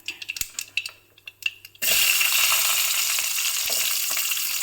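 Shallots drop into hot oil for sambar and erupt into a loud, steady sizzle, following a few light clinks and taps of utensils against the pan.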